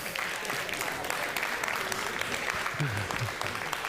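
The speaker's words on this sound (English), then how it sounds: "Give them a big round of applause." Audience applause at a Christmas science show, steady dense clapping from a crowd that keeps going throughout, with a voice speaking over it near the end.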